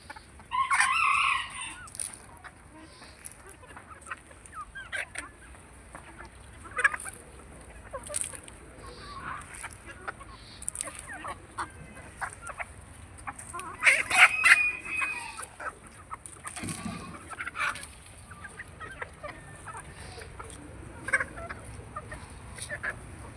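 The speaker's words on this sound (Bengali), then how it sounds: "আমাদের বাসার মুরগি" Household chickens clucking near a home, with a rooster crowing loudly at intervals over scattered clucks and faint outdoor background noise.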